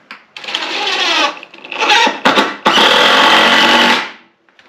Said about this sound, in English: So we'll be screwing down through the floor, and then we'll be toe nailing into that wall.